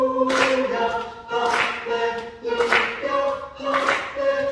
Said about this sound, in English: stop and pat clap, just the altos